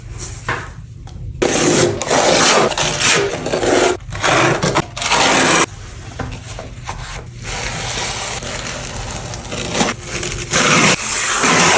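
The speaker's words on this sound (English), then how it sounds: "To waterproof this corner, I'm gonna apply thinset using my same trowel on all 3 faces here." A trowel spreads thinset mortar into the corner of a Schluter shower pan, giving repeated scraping and rubbing strokes, loud and close, broken by short pauses between passes.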